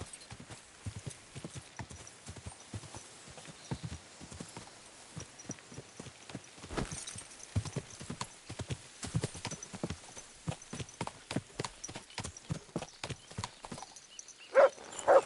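Horse hooves clip-clopping at a steady walking pace in the video game Kingdom Come: Deliverance II, close and continuous throughout, with a brief whinny near the end.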